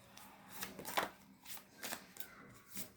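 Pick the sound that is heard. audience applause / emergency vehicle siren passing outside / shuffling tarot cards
shuffling tarot cards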